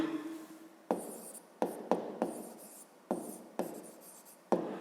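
Pen writing on paper during a fifth-grade maths exercise, heard as several separate bursts of quick scratchy strokes, each starting sharply and tapering off, close and fairly quiet with short pauses between them and no talk.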